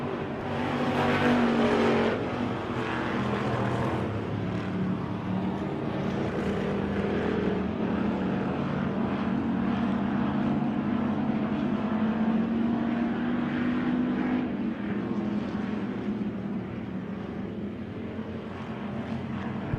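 Race cars roar around the oval at Victory Lane Speedway, a continuous layered engine drone from several cars battling down the back straightaway, steady and fairly loud with no voices over it.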